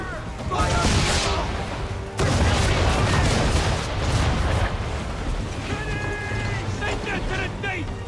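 Ship swivel guns and cannons firing in an Assassin's Creed III naval battle, loud bursts of booming fire and crackling impacts amid wind and water noise.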